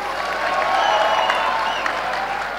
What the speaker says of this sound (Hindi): इसी बात पे जोरदार तालियां.